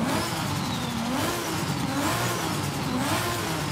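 A modified car with a louder aftermarket exhaust revs hard, the engine note rising and falling in a loud, continuous roar close by with no voices.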